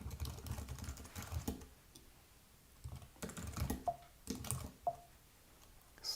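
Fingers typing on a decade-old Apple computer keyboard, giving quiet, close bursts of key clicks separated by short pauses, with no speech.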